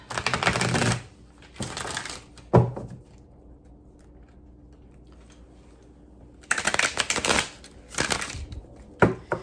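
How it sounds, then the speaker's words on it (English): A Tarot of Mystical Moments card deck being shuffled, with several bursts of riffling and flicking cards, close and crisp, separated by a quiet pause in the middle. "One more time for the shuffling of Tarot of Mystical Moments."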